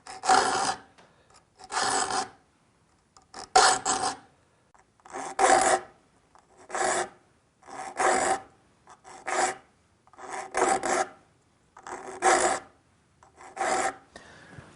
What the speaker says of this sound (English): the file has a tendency of catching on the tooth that's leaning towards you